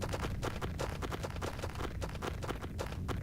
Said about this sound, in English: Crunchy foot noises.